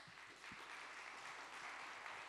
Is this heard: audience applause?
yes